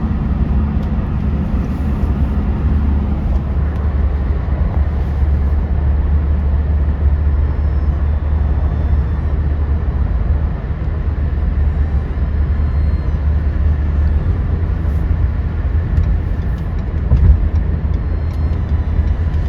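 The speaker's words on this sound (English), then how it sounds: "Coal train." A continuous low rumble of a long coal freight train rolling past nearby in Colorado, steady and droning with faint rattling throughout.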